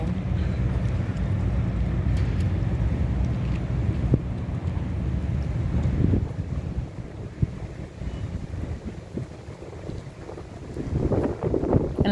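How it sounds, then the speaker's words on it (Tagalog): Strong wind at the seaside, with sailing boats out on the water, roars continuously as heavy buffeting against the microphone, gusting louder and softer throughout with a low rumble underneath. "Ang lakas ng hangin guys."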